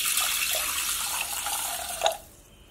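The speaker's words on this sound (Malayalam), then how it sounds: "അപ്പോൾ ഞാൻ ഇവിടെ കുക്കറിലേക്ക് വെള്ളം ഒഴിച്ചു കൊടുക്കാം." Water pours steadily into a pressure cooker in a home kitchen, a continuous splashing rush that ends with a brief clink near the close.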